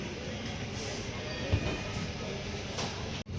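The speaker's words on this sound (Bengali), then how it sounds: "আমাদের ট্রেন চিত্রকূট ধাম কারওয়াই স্টেশন ছেড়ে যাচ্ছে।" The 12177 Chambal Express pulls out of Chitrakoot Dham Karwi station, a steady low rumble of rolling carriages heard from on board, with faint rhythmic clatter and a brief bump near the end.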